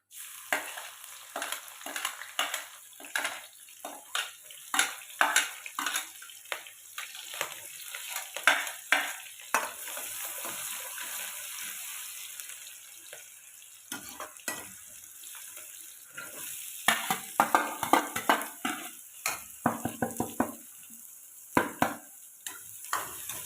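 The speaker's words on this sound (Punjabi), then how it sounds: "ਪਿਆਜ਼ ਨੂੰ ਹਿਲਾਉਂਦੇ ਜਾਵਾਂਗੇ ਆਪਾਂ ਇਹਨੂੰ ਬਰਾਊਨ ਕਰਨੇ ਆ ਜੀ" Onion, garlic, green chilies and ginger fry together in hot oil with cumin, a close sizzle broken by repeated spoon scrapes and stirring clatter in bursts, quieter in the middle stretch, with no voices.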